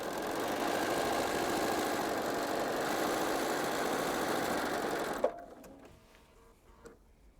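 A sewing machine stitches through quilt fabric layers in a fast, steady, close mechanical whirr for about five seconds, then stops abruptly, leaving only faint handling noises.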